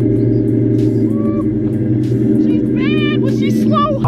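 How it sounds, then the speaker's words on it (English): A Ford Mustang GT V8 rumbles steadily at idle, deep and loud, while faint whistles and chirps rise and fall above the engine throughout. "listen to that rumble of the American muscle Mustang"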